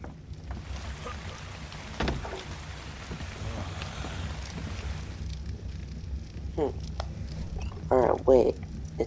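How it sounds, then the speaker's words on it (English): Rain in the survival video game ARK: Survival Evolved, a steady broadband hiss with low rumble running throughout, while a person talks over it and brief game effects break through near the end. "Wait, it's raining."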